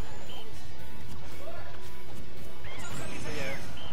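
A forward smash lands with a sharp crashing hit in Super Smash Bros, Diddy Kong against Wii Fit Trainer and Olimar, loud game impacts and effects over excited commentary.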